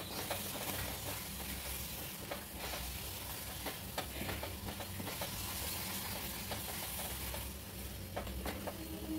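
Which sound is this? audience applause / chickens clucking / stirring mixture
stirring mixture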